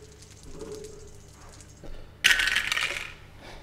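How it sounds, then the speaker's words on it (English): Three dice are thrown during an X-Wing miniatures tournament final, rattling and clattering onto a table in a bright, close burst of about a second. "Throwing 3 dice"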